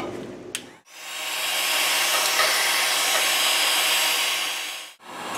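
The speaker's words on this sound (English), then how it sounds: "I'm gonna apply the heat gun and try to get this seam sealer off in here." A Harbor Freight heat gun blows steadily for about four seconds while stripping seam sealer from the underside of a Triumph Spitfire, a loud continuous airy roar with a faint hum that starts and stops abruptly.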